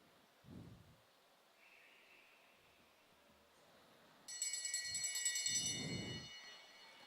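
At a Queensland junior and masters state championship track cycling race, a lap bell rings rapidly and continuously for about two seconds, bright and fairly loud over faint arena ambience with a few soft thuds.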